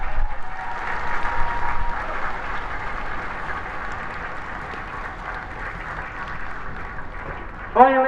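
A crowd applauds Kinvara after a Galway intermediate hurling final, sustained clapping that stays fairly even and fades slightly over several seconds, with faint voices in the crowd.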